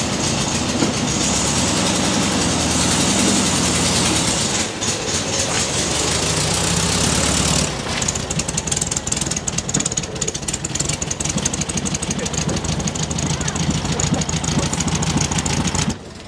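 A revived Volkswagen Beetle engine runs continuously and loudly up close, a dense rough idle with a rapid ticking clatter that shifts and grows busier partway through.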